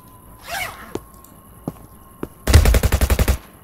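A gun fires in the video game Internet Cafe Simulator 2. A few scattered single shots and clicks come first, then a rapid burst of about ten loud, evenly spaced shots to close the clip.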